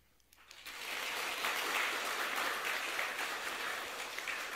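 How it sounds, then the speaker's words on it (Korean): A church congregation at a Sunday service blessing teachers breaks into applause, quickly swelling to a steady, dense clapping that continues evenly to the end, with no talking over it. "우리 성도님들께서는 박수로 격려하며 축복해 주시기 바랍니다."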